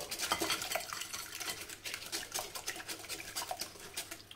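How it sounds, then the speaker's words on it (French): Two whole eggs and two yolks whisked in a salad bowl, a quick run of light clicking and swishing strokes against the bowl, close but soft, with no talk. "On met nos 2 œufs entiers et nos 2 jaunes. On va déjà mélanger tout ça."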